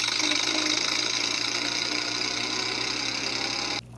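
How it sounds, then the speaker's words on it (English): A 2018 Hess toy truck's electronic engine effect plays a steady, rattling, sputtering drone at moderate loudness, then cuts off abruptly near the end. "you get the effect of the truck driving away and the engine sputtering and the muffler spitting out smoke"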